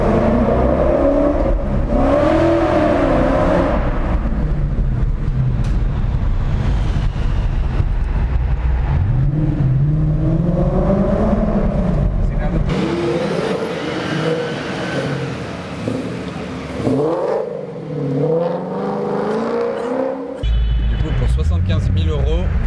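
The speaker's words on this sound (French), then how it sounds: "ça ferait vraiment le bruit d'une vraie muscle car. Avec la résonance." A supercharged 825 hp Sutton Mustang muscle car in Monaco revs and accelerates loudly, engine pitch climbing and falling in repeated sweeps, with people talking over it at times.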